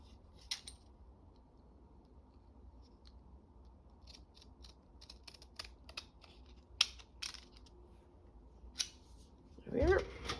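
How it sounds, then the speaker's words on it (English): Quiet room with a few sharp snips and crisp scraping cuts of scissors through paper scattered over time, ending in a louder rustle. "I'm going to use the scissors."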